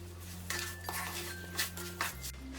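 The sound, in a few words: stirring sooji halwa with sugar and food colour in a pan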